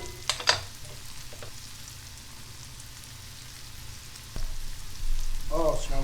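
Mushrooms, red onion and garlic fry in a pan with a steady low sizzle, a couple of stirring clatters near the start, and the frying growing louder toward the end.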